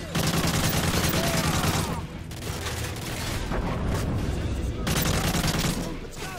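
Dense, loud gunfire in the video game Call of Duty: Modern Warfare 3, with rapid automatic bursts and booming impacts that pause briefly and then resume, continuing almost without a break, while a voice talks underneath.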